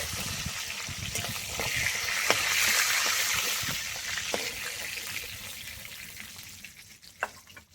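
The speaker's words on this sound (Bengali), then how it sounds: "এইভাবে মাছগুলো সব ভেজে নেব" Nilotica fish frying in hot oil, a steady close sizzle with scattered sharp pops and crackles rising and falling over several seconds.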